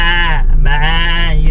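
A goat carried on the back of a motorbike gives two loud, close, quavering bleats separated by a brief break, with an engine-like drone underneath.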